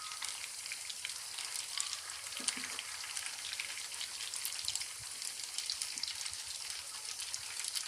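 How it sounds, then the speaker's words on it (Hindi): Potato and rice nuggets fry to a light brown in a pan, giving a steady, close, crackling sizzle with scattered oily pops and no voices throughout. "ये हमारे अच्छे से लाइट ब्राउन फ्राई हो चुके हैं"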